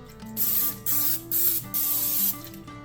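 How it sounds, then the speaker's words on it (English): Several short bursts of non-stick cooking spray hiss onto a large baking dish, close and loud, separated by brief pauses, over a faint background hum. "And then I'm going to spray a large baking dish with some non-stick spray."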